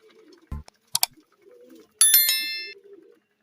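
A few short pigeon calls and soft coos, close by, with a bright metallic ding and light tapping in a quiet setting.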